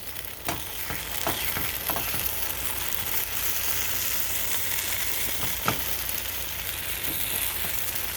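A vegan egg foo young mixture fries in a pan with a steady, dense sizzle, punctuated by occasional scraping and stirring clicks from a utensil close up.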